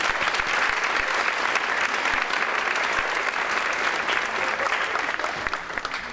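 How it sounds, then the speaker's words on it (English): Sustained, dense audience applause at a National Honor Society induction ceremony, loud and steady throughout with no break and no clear voices above it. "I also want to have a big round of applause for everybody being inducted and being acknowledged this evening."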